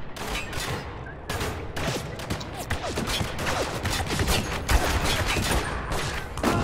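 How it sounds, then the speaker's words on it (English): Dense light machine gun fire in Spec Ops The Line multiplayer rattles in rapid overlapping bursts, loud and nearly continuous, with other gunshots mixed in throughout. "the guy with the LMG is just killing everyone"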